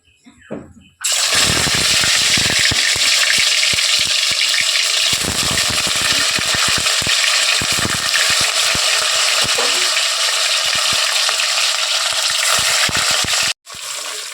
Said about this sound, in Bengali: চলুন মাছগুলো ভেজে নিই